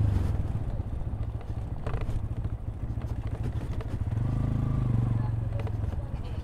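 Motorcycle engine running steadily on a long road tour, a constant close drone that swells briefly in the middle, with a voice talking over it.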